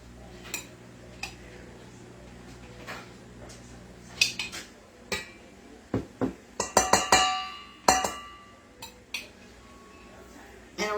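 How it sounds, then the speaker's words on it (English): A spoon stirring soup in a metal cooking pot, producing scattered close clinks and scraping knocks that bunch together midway, with occasional quiet background sounds and no clear talk. "Let's stir it up and get all them bits around."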